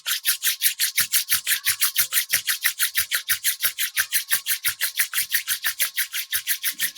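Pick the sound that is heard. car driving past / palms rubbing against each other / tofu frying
palms rubbing against each other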